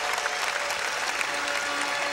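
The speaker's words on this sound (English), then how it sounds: "The applause for Olga Corbett." An arena crowd applauds a gymnast at a 1992 gymnastics exhibition, with steady, dense clapping throughout at an even level and no talking.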